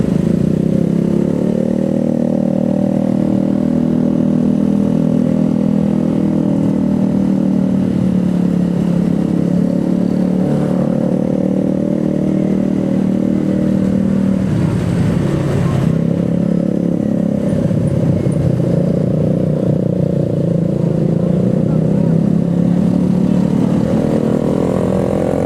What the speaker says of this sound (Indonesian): itu ada motor berisik banget, gila